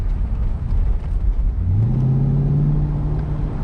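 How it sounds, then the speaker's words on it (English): A 2007-2013 Chevrolet Corvette C6 convertible with an automatic gearbox rumbles from inside the cabin, a deep, steady low engine and exhaust drone whose pitch climbs midway and then holds. "I can hear an idle, which is a very good thing in my opinion. I like hearing some exhaust noise."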